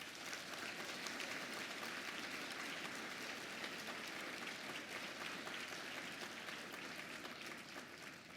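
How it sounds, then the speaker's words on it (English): Sustained applause from an audience at an awards gala honoring award recipients, dense steady clapping that fills the room continuously without a break. "A big round of applause for our award recipients"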